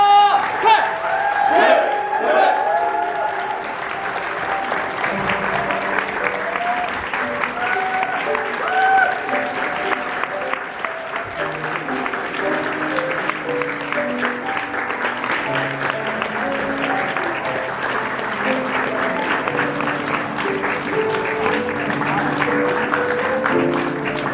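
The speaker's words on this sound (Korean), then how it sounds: "가장 큰 박수로 열렬하게 그렇게 환영해 주면 좋겠습니다" Wedding guests give sustained, loud applause as the bride enters the ceremony, with steady clapping and crowd noise throughout and music and voices mixed underneath.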